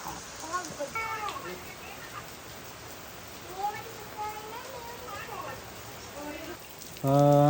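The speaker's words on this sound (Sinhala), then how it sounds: "අපි හිතුවට වඩා වැස්ස වැඩි වුණා." Steady rain patters in a dense forest near Nelugala, with faint voices and chirping in the background, ending with a sudden louder tonal sound.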